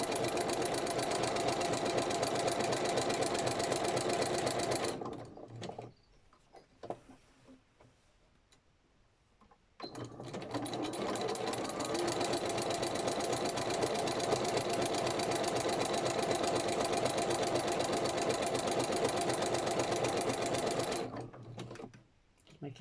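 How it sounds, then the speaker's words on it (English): Sewing machine stitching a strip of lace onto a fabric journal cover, a loud steady motorized whirr with fine rapid ticking that runs continuously, halts for a few seconds, then resumes at speed until near the end. "Making sure that bit of lace lays flat when I stitch it."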